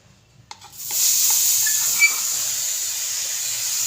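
Dry grated carrots tipped into a hot wok for carrot halwa: a few soft clinks, then a sudden loud, sustained steamy hiss and sizzle that continues steadily while being stirred.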